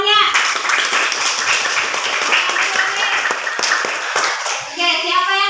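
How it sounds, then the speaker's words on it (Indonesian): A class of elementary school children claps together for a classmate who has just read aloud, a dense, steady patter of small hands filling the room, with children's voices briefly heard before and after. "Tepuk tangan pada temannya."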